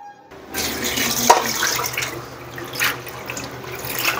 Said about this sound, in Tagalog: Dagdagan ko ng tubig.